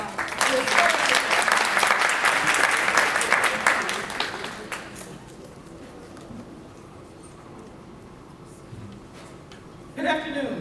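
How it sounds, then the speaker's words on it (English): Audience applause for a speaker at a launch event fills the first few seconds with loud, dense clapping, then fades into quiet room murmur and voices, with a brief clatter near the end. "nd if we could, all of us who work with Deb, let's give her a round of applause."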